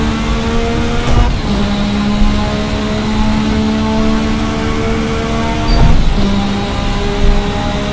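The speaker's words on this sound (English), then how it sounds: "And you'd expect that with a turbo engine like this" The 1986 Formula RSS V6 turbo engine in Assetto Corsa drones loudly and close at steady revs, with brief sharp blips and gear changes around the second and sixth seconds, a thick harmonic buzz throughout.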